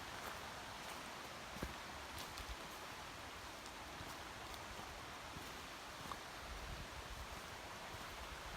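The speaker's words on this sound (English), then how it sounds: "And this is the Kennebec River." The Kennebec River flows as a steady, broadband rush of moving water along the Appalachian Trail, a continuous wash of sound with light wind over it and no talking.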